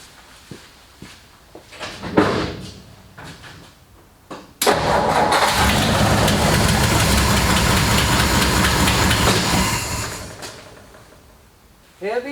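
A 1960 Ford F100 cranks with a new fuel pump fitted: a few quiet knocks and shuffles, then a loud, steady churning crank that runs for about six seconds without catching before it cuts off.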